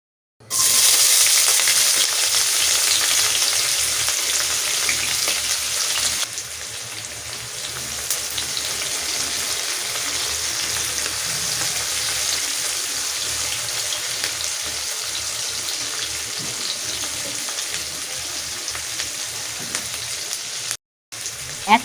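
Steady, busy sizzling of cumin seeds and chopped onion frying in hot oil, a dense crackle that holds throughout with a brief cutout near the end.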